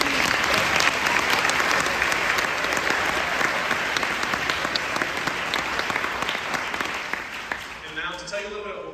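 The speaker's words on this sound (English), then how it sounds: "So one more round of applause for those." A school spring band concert audience breaks into dense, sustained applause with some voices mixed in. The clapping tapers off in the final second.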